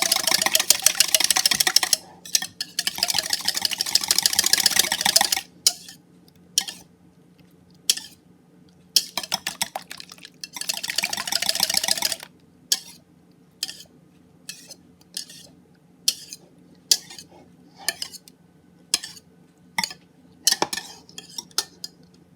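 Pudding ingredients get mixed in a bowl with a mixing tool, producing bursts of rapid whisking clatter that give way to a series of separate clinks and taps against the bowl, with no talking.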